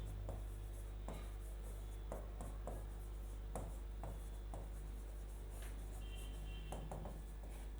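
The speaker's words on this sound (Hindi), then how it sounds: "यहां पर लिख सकते हैं" Chalk or marker on a classroom board during a geometry lesson, scratching in short separate strokes over a steady low background hum.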